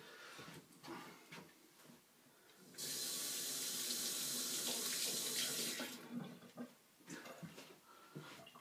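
Celery is washed under a running kitchen tap while making a smoothie: water gushes steadily for about three seconds between quieter handling sounds and clatter.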